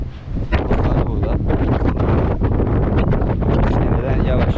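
Strong wind buffets the microphone on the deck of the cargo ship M/V Mehmet Aksoy at sea, a loud, continuous roaring rush with gusty surges and a faint wash of water beneath.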